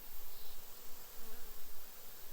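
A steady, close buzzing of many honey bees around a hive frame, dense and continuous with a slightly fluctuating hum, no voices.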